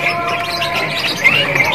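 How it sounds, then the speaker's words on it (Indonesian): A spotted jongkangan bird in a shop cage at a bird kiosk gives a run of thin, high chirps, loud and close, with a few sharper tweets near the end and no talking. "Inilah penampakan dari burung jongkangan yang trotol ya."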